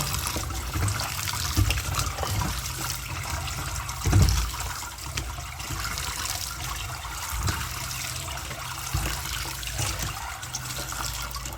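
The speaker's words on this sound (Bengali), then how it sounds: "তো এটাকে আমি চিপে জলটা ফেলবো" Water being squeezed out of boiled bottle gourd leaves by hand, a continuous close trickling and dripping with a brief louder splash partway through, no speech.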